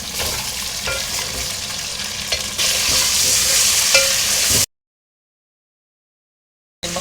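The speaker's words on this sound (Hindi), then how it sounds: "अब मैं इसमें चिकन डालूँगी।" Chicken pieces frying in golden-brown ginger garlic paste with whole cardamom for a quick chicken biryani, a loud steady sizzle with stirring clatter that cuts off abruptly to silence before briefly resuming.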